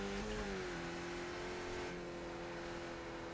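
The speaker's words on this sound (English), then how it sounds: "just turn the engine noise there a little bit" A Radical race car engine in iRacing drones steadily, its tone shifting as it revs and settles, fairly loud with no talking.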